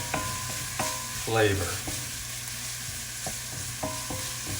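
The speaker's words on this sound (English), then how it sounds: "So just stir these around, let them cook down a little bit." Vegetables cooking in butter for risotto are stirred in a pot, with a steady sizzle and a few clicks and scrapes of the spoon; a voice speaks a single word briefly.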